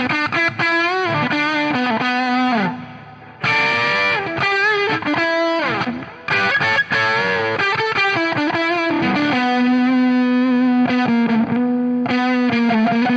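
An Analog Man Sun Face style fuzz pedal on electric guitar, its thick distorted tone played as loud sustained chords and riffs with brief breaks, filling the whole passage with no talk.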